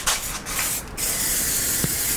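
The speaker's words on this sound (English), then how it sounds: "I'm gonna like take metal spray paint." A steady hiss of metallic spray paint from an aerosol can, with a couple of brief breaks near the start, then one long continuous burst.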